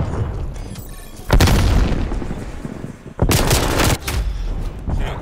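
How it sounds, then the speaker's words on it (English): A frag grenade blast in Call of Duty: Black Ops Cold War: a loud, heavy boom bursts in and rumbles off, then a second sharp detonation follows, set against steady background gunfire and battle noise. "Sending frag grenade."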